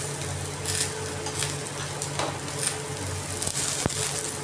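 Onions drop into a pan of bitter gourd that is already frying, bringing a steady, close sizzle with a few stirring scrapes and light clinks of a utensil against the pan.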